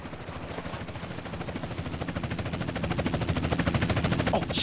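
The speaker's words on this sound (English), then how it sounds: "Chopper inbound." A helicopter in Grand Theft Auto: San Andreas approaches during the Pier 69 mission, with a rapid, rhythmic rotor chop that grows steadily louder, alone with no speech.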